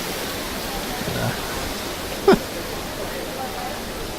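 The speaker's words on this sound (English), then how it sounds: "it's a very loud waterfall." Loud waterfall in Final Fantasy XII The Zodiac Age, a steady broadband rush of pouring water filling the scene, with someone talking briefly over it and a short sharp click midway.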